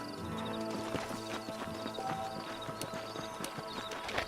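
Horses' hooves clip-clop at a walk on canyon ground in the Red Dead Redemption video game, with a whinny and the creak of tack. The scene is busy, layered and fairly close, with no talking.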